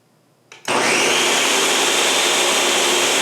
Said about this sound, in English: We'll blend this one more time.